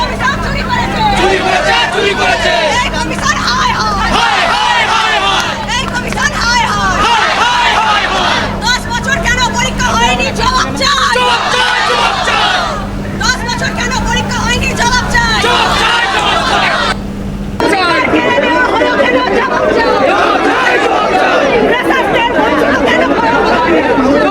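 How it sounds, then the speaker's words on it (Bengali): Marching job seekers fill a street on their way to Bikash Bhavan, a dense, continuous babble of many voices with rhythmic shouting over steady traffic rumble, loud and close throughout, with a brief dip near the end. "তাদের যে স্লোগান সেই স্লোগানটা শোনাবো"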